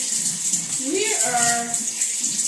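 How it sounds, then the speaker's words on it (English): Tap water running steadily while hands are washed under it in a home kitchen during meal prep, a close hissing splash with a brief voice-like sound in the middle. "Let me wash up my hands."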